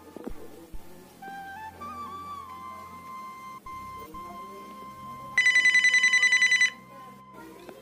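A telephone rings while a call to a doctor is placed, a short burst of electronic ringing heard after a quiet stretch with a steady tone and faint background sounds.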